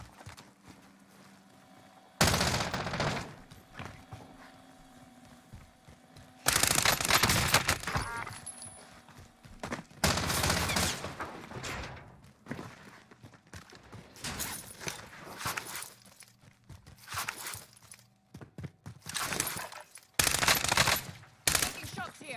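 Bursts of automatic gunfire from the video game Warzone rattle in several loud volleys, separated by quieter stretches of in-game ambience.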